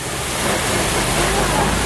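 Cascading waterfalls along the Kilimanjaro Safaris ride at Animal Kingdom make a loud, even roar of falling water that swells slightly and then holds steady.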